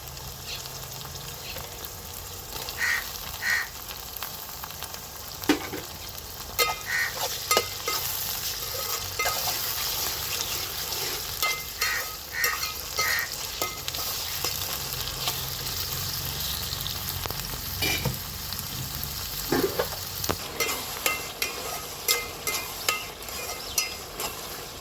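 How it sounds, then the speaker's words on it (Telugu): Green chillies hitting a pan with frying onion pieces and ginger paste, a steady bright sizzle with scattered stirring clinks and scrapes throughout, close and continuous. "పచ్చిమిరపకాయలు వేస్తున్నాను."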